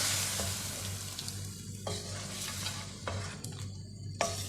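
Chicken korma with yogurt, mace powder and nutmeg powder cooks in a pan with a steady close sizzle. A spoon scrapes through it about four times at spaced intervals, and no one speaks.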